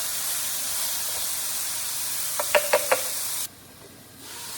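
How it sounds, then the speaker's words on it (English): Ground beef browning in a hot pan gives a steady, close sizzle, with a few brief stirring scrapes of the utensil before the sound drops away. "So while I'm browning up the ground beef"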